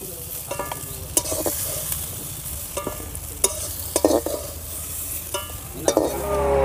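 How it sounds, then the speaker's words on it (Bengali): Bori lentil dumplings sizzle in hot oil in a pan, a continuous fry with sharp scraping clicks from repeated stirring. "বড়ি লাল লাল করে ভেজে নিয়েছি, এবার তুলে নেব।"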